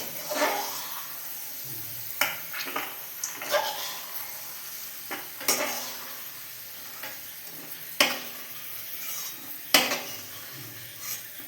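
Raisins frying in hot oil, a soft continuous sizzle broken by occasional sharp clinks and scrapes of a spoon in the pan, steady and moderately quiet with no talking.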